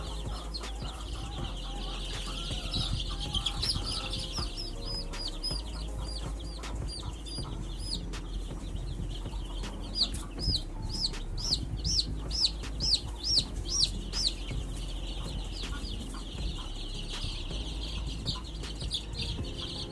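Young chicks cheeping while being given Newcastle disease and infectious bronchitis eye-drop vaccine, rapid high peeps coming in bursts, loudest mid-stretch, over a low steady hum and brief handling noises.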